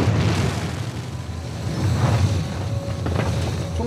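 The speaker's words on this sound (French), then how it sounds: "Nuevamente hubo una gran explosión en el volcán Ubinas" Ubinas volcano erupting in the Peruvian Andes, heard as a continuous loud roaring rumble with gusty wind-like noise throughout, no voices.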